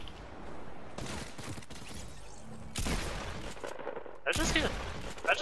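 Fortnite gunfire erupts in three loud rapid bursts separated by short pauses, sharp and close, with a voice talking between the volleys.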